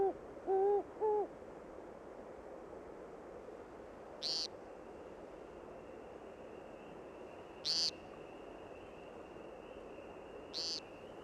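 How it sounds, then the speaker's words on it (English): A great horned owl hoots in the wild at night, low resonant calls near the start, with a few sharp high chirps spaced through a steady quiet ambience. "Among the creatures that prey upon them are other birds, such as this great horned owl."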